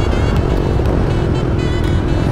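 Road traffic on the way into Pampanga makes a loud, steady drone of nearby engines and tire noise with no clear pauses.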